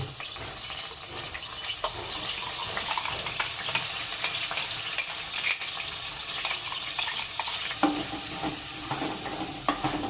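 Ground masala paste frying in hot oil for a spring onion dish, a steady dense sizzle that holds evenly throughout, with occasional spoon scrapes and stirring clicks on top; no talk.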